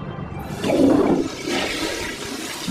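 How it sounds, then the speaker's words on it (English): A toilet flushes in an animated bathroom scene, with a loud rushing surge of water that swells, then drains steadily for a few seconds, heard alone. "Now let's pull up my underwear and flush the toilet."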